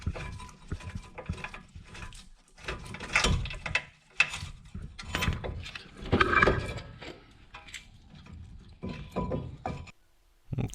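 Brake caliper bracket bolts are worked loose on the front wheel of a 2002 Ford Taurus, with irregular metallic clicks, ratchet clatter and clunks of tools and parts near the microphone, in uneven bursts with brief pauses.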